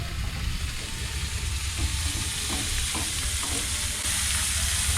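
Green peppers sizzle loudly in a pan, a constant close, dense frying hiss with a few soft stirring scrapes midway.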